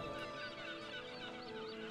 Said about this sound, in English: Get out of here, you stupid chicken.